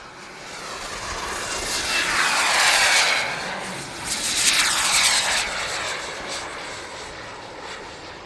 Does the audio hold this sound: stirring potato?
no